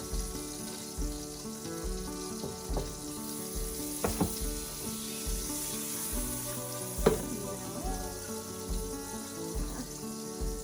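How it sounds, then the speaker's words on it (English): Butter sizzles and crackles steadily in a hot pan, a constant hiss with occasional sharper pops and spatters, close and fairly loud. "you can see it's already hot and sizzling already"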